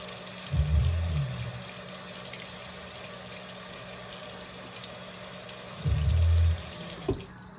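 Tap water runs over an orange being washed at a kitchen sink, two short bursts of flowing water separated by a quiet stretch, close and moderately loud with no talking.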